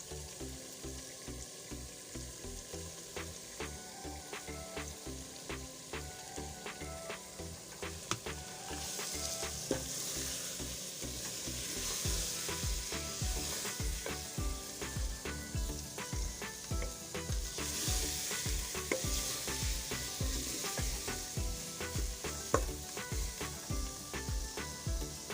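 Drumstick pieces frying in a pan with green masala, a steady loud sizzle with repeated scraping stir strokes throughout, no talking.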